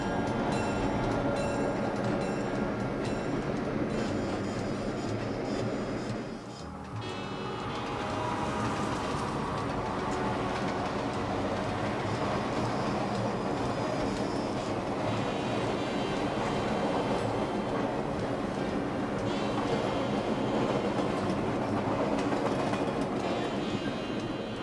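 A K&L Trainz model of the NYC 20th Century Limited runs on track, giving a continuous rolling rumble with steady clickety-clack of wheels over rail joints. It holds fairly loud and close throughout, with one brief dip.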